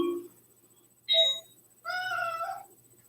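A house cat meows twice at close range, a short cry followed by a longer drawn-out meow, in an otherwise quiet room.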